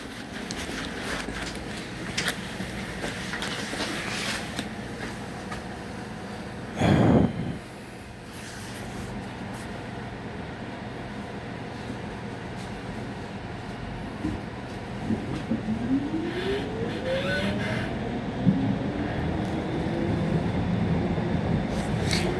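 A moving train cabin fills the space with a steady low rumble and rattle, broken by one brief louder burst partway through and a faint rising whine near the end.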